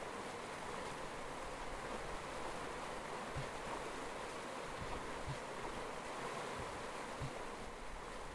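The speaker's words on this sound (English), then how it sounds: "Oh, there's a waterfall." Rushing water of a waterfall in the video game Owlboy, a steady dense wash of noise lasting throughout with no talk, loud and continuous like surf.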